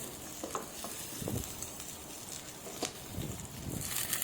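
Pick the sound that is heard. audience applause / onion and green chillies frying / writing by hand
onion and green chillies frying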